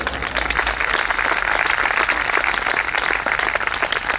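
An audience at a Hindi comic poetry recital breaks into loud, sustained applause, dense overlapping clapping that fills the space evenly throughout.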